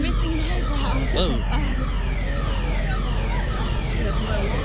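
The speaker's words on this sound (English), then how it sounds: "That's my alarm." An alarm sounds at a loud concert in San Jose, its wavering siren-like tones repeating over dense crowd noise, with people talking nearby.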